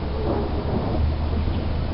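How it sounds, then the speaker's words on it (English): Low, sustained rumble of thunder from a lightning storm in Pennsylvania's Lehigh Valley rolling through the whole moment, with a faint hiss of rain above it and no voices. "the lightning is really hitting around here"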